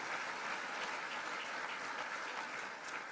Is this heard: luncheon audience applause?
yes